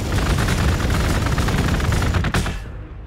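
Dense rapid gunfire from a battle in Warhammer 40k: Gladius, a loud continuous burst of rattling shots that cuts off abruptly near the end.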